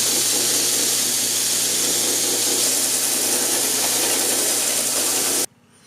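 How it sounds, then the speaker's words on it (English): A belt grinder running a 120 grit belt across the face and bevel of a kitchen knife, giving a loud, steady broadband grinding hiss with a low motor hum that cuts off abruptly near the end. "So I have my 120 grit belt here, and we're just going to go ahead and clean the face of the knife and the bevel"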